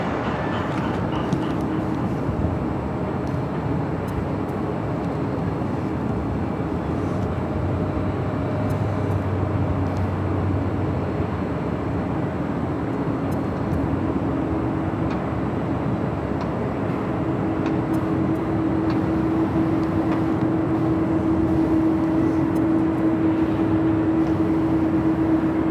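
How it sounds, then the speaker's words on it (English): An Airbus A380 airliner on final approach at Los Angeles International Airport, heard as a steady, broad jet roar that swells slowly over about 26 seconds, with a rising engine whine toward the end and no talk. "A380 alert."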